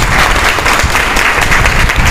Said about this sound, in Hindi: इस सिस्टम के लिए जोरदार तालियां सर